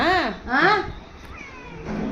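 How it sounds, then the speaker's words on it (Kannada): A Persian cat meows twice in quick succession, close and fairly loud, followed by a softer, drawn-out mew. "ಅವಳನ್ನ ನೋಡ್ಬಿಟ್ಟು ಇವನು ಮಿಯೋ ಮಿಯೋ ಅಂತೆ"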